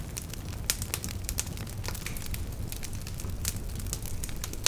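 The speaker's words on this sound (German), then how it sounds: "Ein Feuer, das knistert." A fire crackles softly and steadily, with frequent small snaps and pops scattered over a quiet hiss and no voices.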